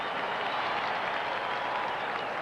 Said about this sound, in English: Broncos applauding, apparently.